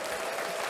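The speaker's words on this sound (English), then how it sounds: "Can we clap that up?" A brief burst of crowd applause plays, clapping densely at moderate level for under a second with no talk over it.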